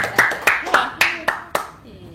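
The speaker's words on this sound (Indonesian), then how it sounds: "Tepuk tangan dong" Sharp, evenly spaced hand claps, about six close, loud strikes in a steady rhythm at a religious talk gathering, followed by a quieter trailing moment.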